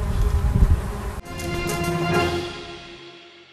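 Bees working a cherry orchard, their buzzing steady at close range and carrying on alone for a few seconds before it fades out.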